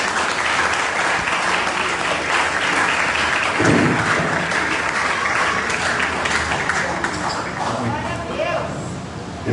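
Congregation applause in a church service, loud dense clapping with crowd voices and shouts mixed in, sustained and close.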